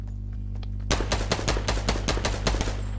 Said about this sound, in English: I'm just gonna shoot at them so I don't see it.